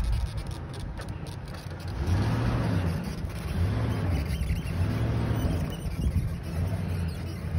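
A truck rolls over dirt and a dirt mound on a property, its engine rumbling steadily with a rising and falling drone, close and fairly loud, with a few faint voices in the background.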